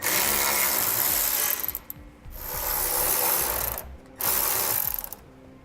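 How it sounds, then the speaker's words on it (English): A ratchet with a 10mm socket clicks rapidly while removing bolts from the frame rail of a 2016 Ford F-250 Super Duty, in two long bursts of steady close pawl clatter separated by brief pauses. "I'm going to be using a 10mm socket to remove these."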